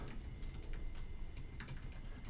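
Keystrokes tapped out on a Chromebook keyboard, a quick run of close, soft clicks in an uneven rhythm over a low background hum, with no voices.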